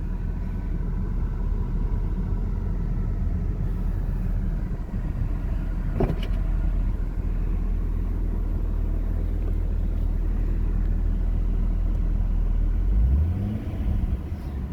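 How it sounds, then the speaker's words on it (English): A 2010 C6 Corvette, fully maintained on full synthetic oil, idles in quiet exhaust mode with a steady low rumble, a brief sharp blip partway through and a rising engine note near the end. "right now, this car is in quiet exhaust mode"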